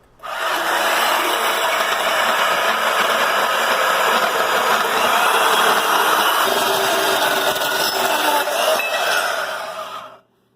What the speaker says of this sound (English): we're going to cut off a sample here so we can examine what the core weld actually looks like